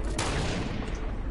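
A rapid burst of gunfire from the video game Fortnite, loud and close, with a sharp initial crack followed by a dense volley that decays quickly.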